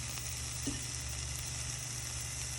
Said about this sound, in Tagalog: Gigisahin lang po natin itong lahat.